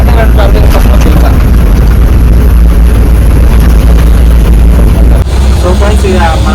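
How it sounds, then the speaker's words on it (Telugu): A loaded truck carrying 33 tonnes with a faulty clutch plate, its engine running as a loud, continuous low rumble throughout, heard from inside the cab with someone talking over it. "ఇక మన బండి అయితే రన్నింగ్లోనే ఉంది."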